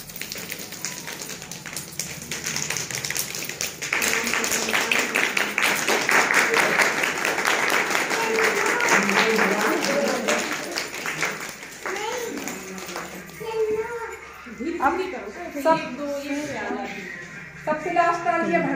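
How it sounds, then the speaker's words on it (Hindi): A classroom of children does the rain clap, a soft patter of many rapid finger taps that builds into a steady rainlike wash, then thins to scattered claps under an adult's voice. "वर्षा ताली चल दो।"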